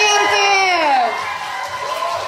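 A crowd at a Russian stage show cheers and shouts loudly and continuously, with high excited voices, many sounding like children, whooping together.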